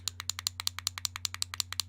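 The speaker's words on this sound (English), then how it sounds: "It does sound sort of like you're clicking a pen." A squishy button on a fidget toy gives rapid, evenly spaced sharp clicks, like a pen being clicked, about ten per second, close and distinct over a low steady hum, with no talking.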